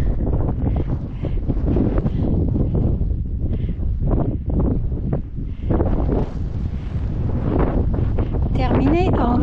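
Strong wind buffets the microphone on the rim of a volcano crater on Lanzarote, a loud continuous roar with gusting swells and no talk.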